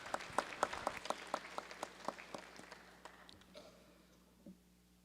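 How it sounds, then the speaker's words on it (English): An audience in a state House legislative chamber gives a round of applause, with faint, thin claps pattering for a few seconds and then fading out quietly into room tone. "If we can give him a round of applause."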